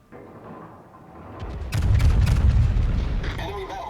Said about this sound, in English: That was the Republic fires, and a fire again